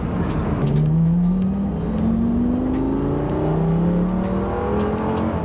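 A Lamborghini engine revs hard in second gear and climbs steadily in pitch as it accelerates, loud and continuous with a rising whine.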